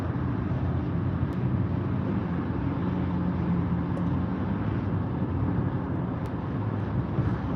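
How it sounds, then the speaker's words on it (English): A Toyota Tacoma pickup with a V6 and a Y exhaust drones steadily nearby, a broad low engine and road rumble mixed with wind noise that never lets up. "You can hear that Tacoma shifting all over the place"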